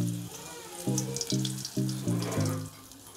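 Chips frying in hot oil, with a steady bubbling sizzle that swells in several bursts as each new batch goes into the pan, close and fairly soft, with no talk.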